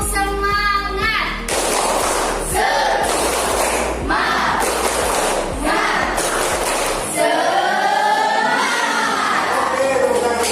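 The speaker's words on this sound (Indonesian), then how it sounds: "1, 2, 3. Tepuk semangat." A grade 7 class doing a spirit clap during an Indonesian-language lesson: groups of sharp, loud bursts of clapping mixed with children's chanted shouts, each lasting about a second and separated by short pauses.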